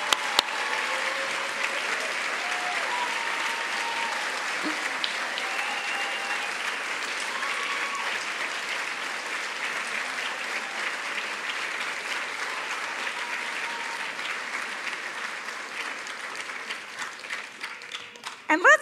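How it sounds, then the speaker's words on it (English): Sustained applause from a large audience at a university baccalaureate ceremony for graduating students, steady dense clapping filling the room for nearly twenty seconds with faint tonal music or voices underneath. "let's give one more round of applause for our graduates"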